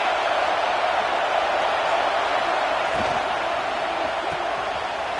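Stadium crowd noise from the NCAA 26 college football video game, a dense, steady roar of a large crowd holding at constant loudness with no clear voices standing out.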